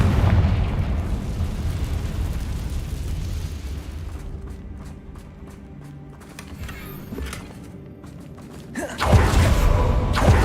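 Confringo blasting spell explosions in the Hogwarts Legacy video game: booming bursts over rumbling game noise, quieter crackling in the middle, then a loud fresh blast near the end, with no voices.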